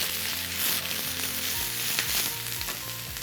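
Red and green bell peppers fry in a hot pan with a steady, close sizzle and crackle, broken by occasional stirring scrapes, with no voices.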